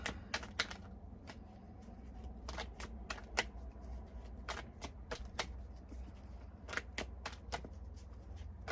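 Tarot cards are shuffled by hand, making light, crisp ticks and flicks in quick irregular clusters with short pauses, close and quiet over a faint low hum.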